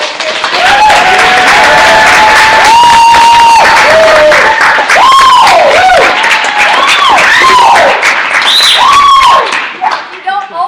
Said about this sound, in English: let's give a big round of applause for everybody here